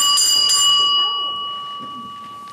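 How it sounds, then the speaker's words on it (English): A hand bell rung as a dinner alarm on stage in a school play, a bright clanging burst at the start followed by a sustained ringing tone that slowly fades, loud and close with no talk. "Dexter, Ring the dinner alarm."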